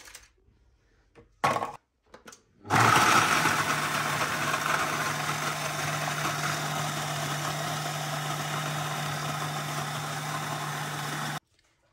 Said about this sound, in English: I'm going to crush some Oreo biscuits, just placing them in my um, food processor.